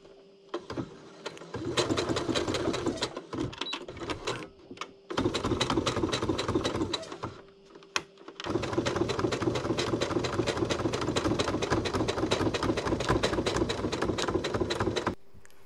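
Sewing machine stitching bias binding on a Teddy bomber jacket, fast rhythmic needle chatter in three long runs separated by brief pauses, close and loud.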